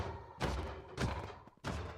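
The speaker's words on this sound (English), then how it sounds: "got the golem sound effect." Heavy booming thuds from the mechanical tower golem in a modded video game repeat three times at a steady pace, each a loud low impact with rumbling tail.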